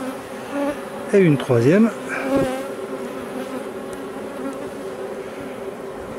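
Honeybees buzz steadily throughout a queen introduction into artificial swarms made from grafted queens, a dense continuous drone with a brief voice speaking over it near the start.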